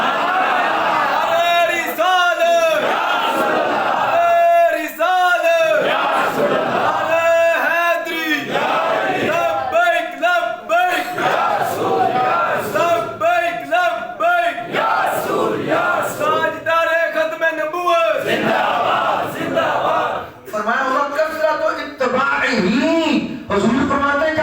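A crowd at a religious gathering chanting slogans in loud, repeated rhythmic phrases of many voices together, rising and falling in regular waves with brief dips between calls.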